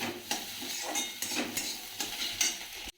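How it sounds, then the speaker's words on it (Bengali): Egg bhujia, a spiced scrambled egg, fries in a pan with a steady sizzle while a utensil scrapes and taps against the metal several times, close up with no voices. "এইটা দেখো ডিম ভুজিয়া করছি"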